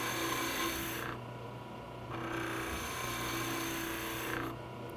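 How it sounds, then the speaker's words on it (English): A skew chisel takes light cuts on a spinning wooden Christmas ornament bulb on a lathe, a steady close rasping hiss that drops off briefly twice as the tool lifts away, over a low hum of the lathe motor. "Now I'll use my skew chisel to shape this half of the bulb from my center line down towards the brass, just making light cuts."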